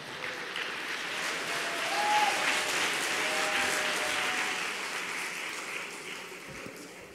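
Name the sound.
audience applause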